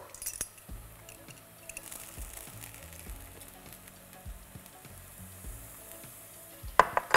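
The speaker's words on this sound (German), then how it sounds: "Und den brate ich zusammen mit den gemahlenen, gehackten Erdnüssen. Das Ganze brate ich kurz an." Diced red onion and garlic sizzle steadily in a pan with ground, chopped peanuts, a soft continuous frying hiss with occasional light clinks and stirring at the end.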